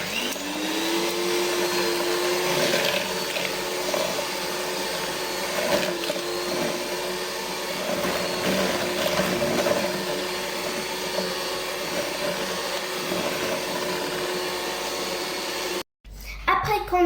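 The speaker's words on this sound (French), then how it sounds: "Et maintenant, on va tout mélanger avec le batteur." An electric hand mixer beats eggs, vanilla sugar and salt for muffin batter, a loud steady whirring drone that runs continuously for about sixteen seconds before cutting off abruptly.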